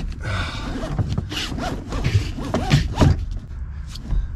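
Seat belt webbing inside a car is folded over on itself and pulled through, giving close, rasping, zipper-like swishes and rustles with a few faint breaths.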